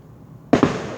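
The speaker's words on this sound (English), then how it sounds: "We're surrounded by fireworks from our neighborhood this time now." Neighborhood fireworks on the night of July 5 in West Haven: two sharp close explosions in quick succession, loud against a quiet background, with a brief crackling tail.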